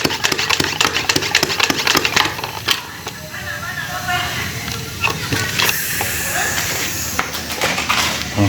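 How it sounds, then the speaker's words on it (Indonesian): An engine-powered sprayer runs steadily while spraying chili plants in a field, its motor drone and hissing spray continuous and fairly close, with someone talking over it. "Kita spray dari atas ke bawah lur, supaya tanaman kita tumbuh dengan subur"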